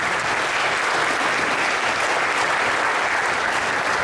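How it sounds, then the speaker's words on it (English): Audience applause for a woman lecturer after her hypertension talk, dense and steady at close range with no voices over it, holding evenly loud for about four seconds. "Let's give her a round of applause."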